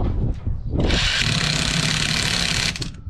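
A Parkside cordless screwdriver tightens a nut, giving one loud, close, steady whir of about two seconds, with brief clatter and handling noise just before and after.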